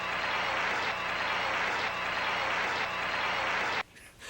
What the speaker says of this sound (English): Let's give it a round of applause for Rex Smith.